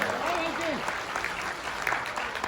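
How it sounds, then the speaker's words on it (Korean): Steady applause from an audience at a talk fills the clip, with a voice briefly speaking over it at the start. "감사의 박수를 보내주시기 바랍니다"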